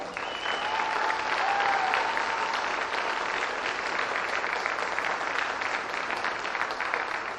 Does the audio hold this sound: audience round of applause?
yes